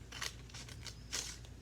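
Scissors snipping long, skinny strips of paper for paper quilling, a few quiet crisp cuts in an uneven rhythm, close and alone.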